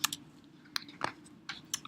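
Computer keyboard typing in a classroom setting, a few quick bursts of keystrokes separated by pauses, fairly close and clear with no talking.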